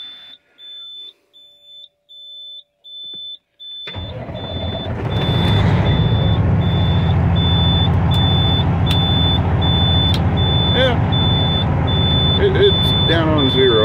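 An old truck with an air-brake system cranks and fires up, then settles into a loud, steady diesel idle that rumbles on. Intermittent warning beeps sound before and during the start.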